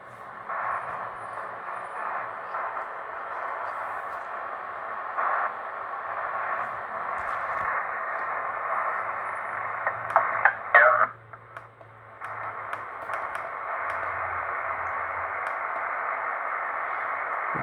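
A radio scanner tuned to a busy band, hissing static and muffled transmissions running continuously, with a short scraping burst and dropout partway before the steady noise returns.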